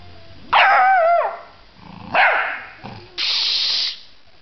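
A dog barks sharply up close, two loud yelping barks followed by a hissing spray-like burst, with short quiet gaps between.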